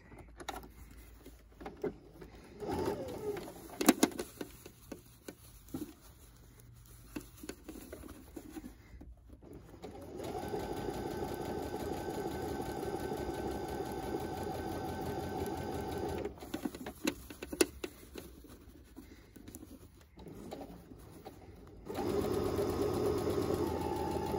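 Sewing machine top-stitching fabric for a face mask, running in bursts: a short stretch, a long steady whir in the middle, then another run starting near the end, separated by quiet pauses while the fabric is turned.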